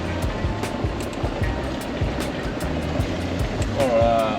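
A vehicle ploughs through deep water on a rough road in Guinea-Bissau, with a steady loud rushing splash and engine churn throughout, while people talk and exclaim over it.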